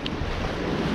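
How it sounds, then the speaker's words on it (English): Steady, loud wind gusting across a rocky seashore, with broad rushing roar and surf-like wash throughout the second, no voices present. "Right now the wind is blowing, I guess, against us for about more than 30 kilometers an hour here."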